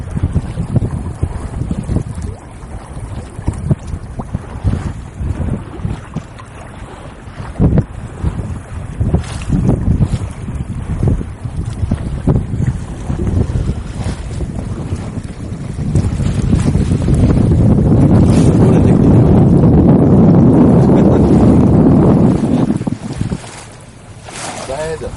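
A sailboat moves through wind on open water, with heavy wind buffeting the microphone and a rushing swell building loud near the end, while people talk over it.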